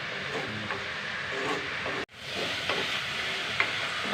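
Drumstick leaves being stir-fried in a pan, a continuous soft sizzle with scraping stir strokes, briefly cut off midway and then resuming at the same moderate level, with no talk.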